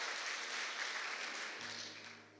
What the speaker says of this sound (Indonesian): Tepuk tangan buat Tuhan Yesus, haleluya